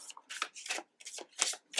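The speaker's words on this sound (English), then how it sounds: "where I want to stop shuffling." Tarot cards being shuffled by hand in a string of quick riffling bursts with short pauses between them, close and fairly soft, with no voices.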